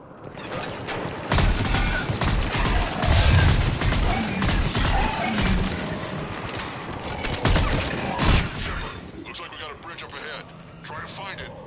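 Firefight in the action game Mass Effect 3, with bursts of gunfire and sharp impacts cutting through battle noise. Voices talk over much of it, and loud cracks stand out near the start and again later on.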